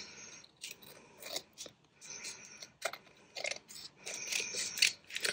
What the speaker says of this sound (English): Scissors desperately need a clean.